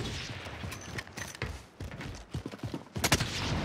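Bursts of rapid gunfire in Call of Duty: Warzone crack in quick clusters, fairly close, shooting at a drone, with mechanical clicks and rattles between the volleys.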